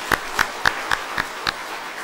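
A church congregation claps together in a steady rhythm, six sharp even claps in about two seconds, fairly close over a quiet hall.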